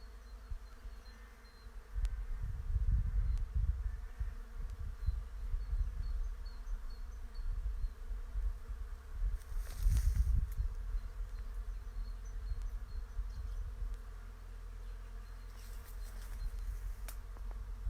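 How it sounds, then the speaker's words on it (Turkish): Bees buzz steadily around blossoms in a cherry orchard at close range, their hum rising and falling, with faint birdsong chirping in the distance. "bir yanda arı sesleri çiçeklerde uçuşmakta"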